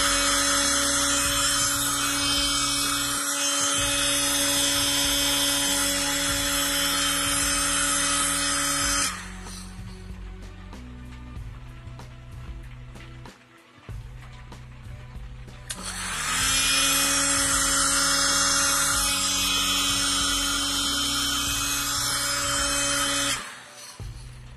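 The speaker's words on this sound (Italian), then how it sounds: "Con l'aiuto del phon" A hair dryer's loud, steady electric blowing roar runs continuously, drops away for several seconds in the middle, then returns at full strength before cutting off.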